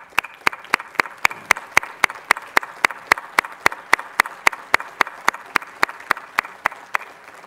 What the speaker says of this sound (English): So if you'll please stand and join me in a round of applause.